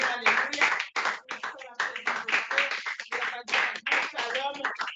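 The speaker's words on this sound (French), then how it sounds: "Applaudissons, applaudissons." A church congregation at a Sabbath service claps hands amid loud singing and speaking voices, the clapping blending into the crowd noise throughout.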